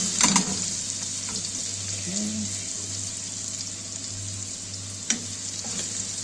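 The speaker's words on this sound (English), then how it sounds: "So I'm just going to saute this a bit." Red and green peppers with chopped garlic sauté in a pan, an even close sizzle with a few clattering stir strokes and a low hum underneath.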